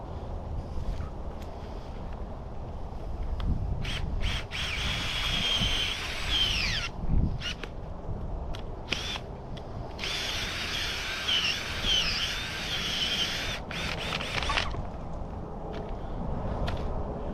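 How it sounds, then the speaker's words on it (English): A gas-powered auger bores a planting hole in garden soil for sweet potato slips, its steady high motor whine running near and loud with brief cutouts and restarts as the bit is lifted and reset. "So as usual, I like my auger."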